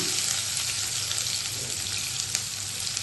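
Onions hit a hot pan and fry with a constant, close sizzle that holds evenly throughout, with no voices.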